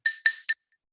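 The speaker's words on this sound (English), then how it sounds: "I can ring my glass," A drinking glass rung three times in quick succession, each bright clear chime with sustained ringing overtones, the last strike shortest, then silence; near and alone.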